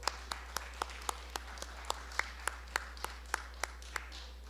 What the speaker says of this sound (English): Let's have a big round of applause for each of you.